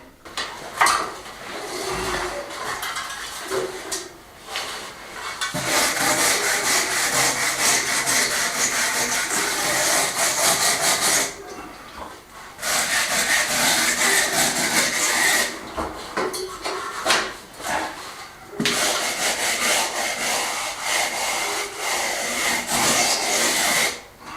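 Hand scraper rasping over an old wooden ceiling beam during restoration, long bursts of loud close scratching strokes separated by brief pauses, with no talk.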